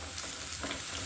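Chopped minced beef crackles and sizzles continuously in a hot pan, close and steady with no voices.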